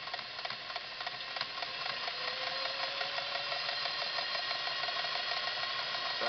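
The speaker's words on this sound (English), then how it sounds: "you wanted to go reverse back to lock the stitch, we'll just throw the reverse lever up. You see it sew backward" A Singer Model 404 sewing machine runs steadily, its needle mechanism rattling in a fast, even mechanical patter that holds close and constant without a pause, switching between reverse and forward stitching while it keeps going.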